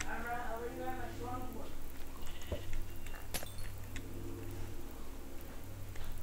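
Sheep bleat in a video game on a hostile map, a few wavering calls near the start amid steady low game ambience and a thunder-like crack, with people talking over it.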